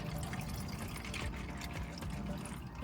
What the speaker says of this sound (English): I'm gonna put some of that in this cup here